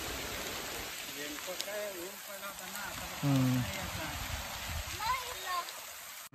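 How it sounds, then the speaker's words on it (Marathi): Heavy rain pours in a hilly forest while people shelter under a tree, a dense steady hiss of falling water close by with voices talking briefly over it. "पाऊस आला जोरात"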